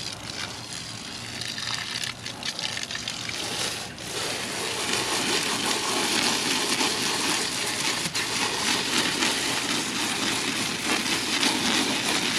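Water spraying to rinse a Screaming Eagle intake air filter, a steady hissing gush of running water that continues throughout, close and fairly loud, with no voices.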